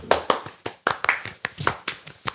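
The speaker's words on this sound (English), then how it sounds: "Can I get a round of applause, everyone?" A small group claps hands in an uneven, loose burst of separate sharp claps, fairly close and thinning out over a couple of seconds, during a casual podcast sponsor shout-out.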